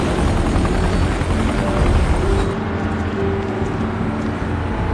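Helicopters in a film, with a loud, steady, dense rotor and engine roar that fills the whole stretch, its tone shifting partway through.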